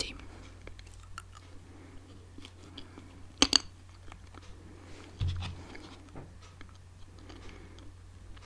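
Salty sunflower seeds are cracked and eaten up close in a quiet room, giving sparse small clicks and crunches with a couple of sharper cracks and faint soft murmuring.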